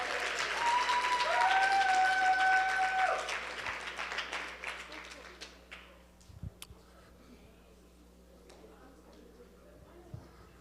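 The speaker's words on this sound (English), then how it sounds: "one last round of applause for the girls varsity team" Banquet audience applauds a girls varsity team at a Christian academy sports banquet, loud dense clapping for about three seconds that thins to scattered claps and quiet room noise with a few knocks and faint voices.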